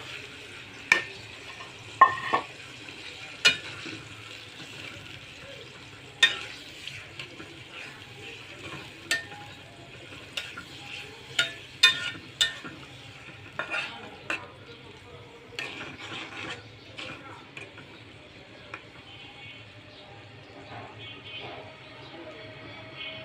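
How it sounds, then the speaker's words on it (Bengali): Small kaski fish frying in cooked masala give a low, soft sizzle in the background, punctuated by frequent sharp clinks and scrapes of a utensil against the pan. "আমার কষানো হয়ে গেছে, কাসকি মাছগুলি অ্যাড করে দিব"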